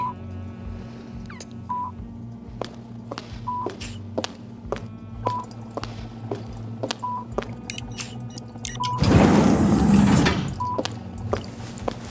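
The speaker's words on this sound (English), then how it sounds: "activate the airlock and seal the door" A sci-fi airlock powers up and seals its door, with a regular series of short electronic beeps and clicks over a low mechanical hum, followed by a loud whooshing hiss of sealing near the end.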